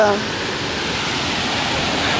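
Water rushes steadily over a small mini waterfall at Thurkapally, a constant close, loud roar with no break.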